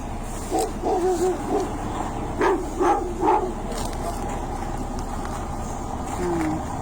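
Several short dog barks and yips come in a loose series, moderately distant, over a steady low rumble.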